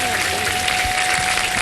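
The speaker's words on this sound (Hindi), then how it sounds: "भाई बहुत सी तालियां होनी चाहिए इन लोगों के लिए" A studio audience at an iftar television show claps loudly and continuously, a dense steady wash of many hands close by, with no talk.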